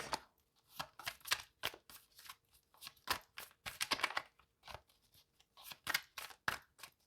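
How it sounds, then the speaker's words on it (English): Quick bursts of tarot cards being riffled and shuffled, crisp snapping flurries in irregular clusters, close and fairly quiet. "I'm just going to give the cards a quick shuffle here."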